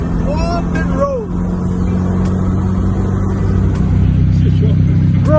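A Nissan S15 Sylvia engine idles with a steady low rumble, with voices talking over it and a few brief higher tones at the start.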